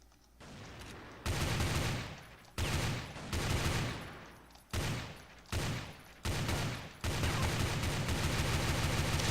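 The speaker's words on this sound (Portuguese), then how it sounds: "A quantidade de tiro que eu tive que dar." Rapid bursts of gunfire from the game CrossFire, loud and dense, repeated in several volleys separated by brief pauses.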